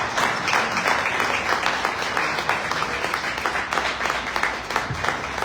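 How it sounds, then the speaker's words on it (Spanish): Audience applause at an architecture talk on color, a steady wash of many hands clapping at moderate loudness throughout, with no voices over it. "Pues yo creo que un aplauso aquí a nuestro sector."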